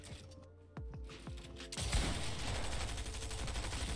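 Rapid bursts of SMG fire from the Fortnite video game, a run of sharp shots early on giving way to dense, continuous loud gunfire with mechanical clatter, no talking.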